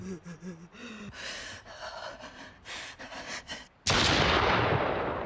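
A gunshot in the video game The Guest, one sudden loud, sharp blast near the end that decays into a lingering noisy tail, following a stretch of quieter breathy sounds and gasps.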